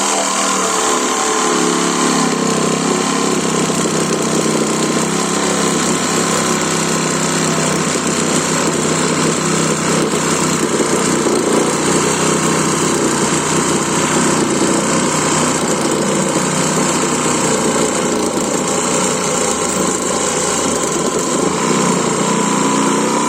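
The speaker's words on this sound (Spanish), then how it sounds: "Pues hoy lo vamos a hacer con la sierra de sable." A cordless lithium-battery Hychika reciprocating saw cuts through wood with a loud, steady buzzing whine that runs unbroken for the whole stretch, with no voices.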